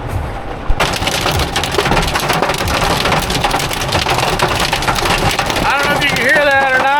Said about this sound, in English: Hear that or not? Might not be loud enough for you, but hail is back.